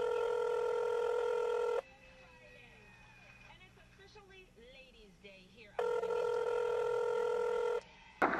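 Telephone ringback tone during a prank call, two long buzzy rings of about two seconds each separated by a quiet gap with faint background noise, the second cut off as the line connects.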